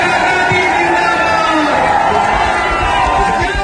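A huge rally crowd surges with excitement as Priyanka Gandhi arrives, a dense, loud, continuous roar of cheering and shouting voices filling the whole stretch without a break.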